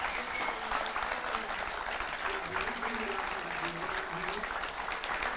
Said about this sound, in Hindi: तो ये तो स्टूडियोज की तालियों की गड़गड़ाहट है